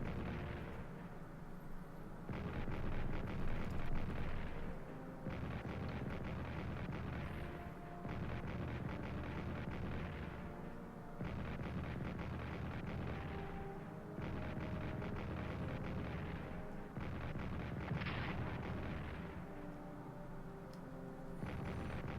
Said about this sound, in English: And now the artillery attack on Gaza